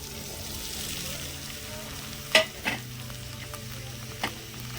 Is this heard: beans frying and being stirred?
yes